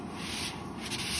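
A plotter cutter slicing paint protection film makes a steady broadband hiss and rub as the blade carriage moves back and forth, continuous and close, with no voices.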